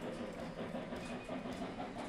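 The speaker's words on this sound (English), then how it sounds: "I'm gonna guess our train." A freight train hauling lumber in the video game Railroad Tycoon 3 rumbles steadily with a dense, rhythmic clatter of wheels on track, loud and continuous with no pauses.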